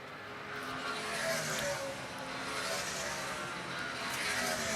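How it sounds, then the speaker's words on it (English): A NASCAR Sprint Cup car runs hard through a corner during final practice at Phoenix in 2009, a loud, steady engine roar with slight pitch swells, broadcast-style and continuous without pause. "he's driving the car just all it'll do, just about to lose it in the middle of the corner"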